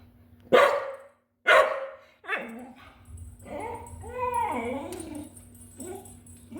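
A dog in a backyard lets out two loud, sharp barks, then shifts into whimpering, yipping and howl-like whines, close to the microphone with a steady low hum underneath.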